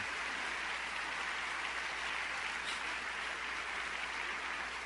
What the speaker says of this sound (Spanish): ¿No le dan un aplauso al Señor?